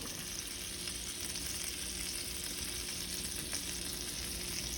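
Garlic and thyme sizzle steadily in a pan over lowered heat, a constant close crackling hiss with faint stirring scrapes and no talking.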